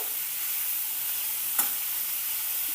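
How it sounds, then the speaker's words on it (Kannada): Chopped ridge gourd frying in a little oil over medium heat gives a steady close sizzle with one brief louder crackle, no talking. "ಈಗ ಮೀಡಿಯಮ್ ಉರಿ ಇಟ್ಕೊಂಡು ಜಸ್ಟ್ ಒಂದು ಐದು ನಿಮಿಷ ಹುರ್ಕೋಬೇಕು"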